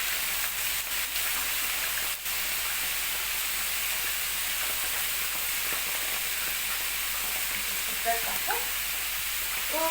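Potatoes cooking in a large frying pan for tacos give a steady, dense sizzle with a broad hiss that runs unbroken throughout, plus a few faint clinks and stirring sounds near the end.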